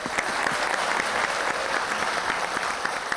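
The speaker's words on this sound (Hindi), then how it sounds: "तालियां।" A studio audience at a televised talk show applauds, dense, even clapping held at a constant level throughout.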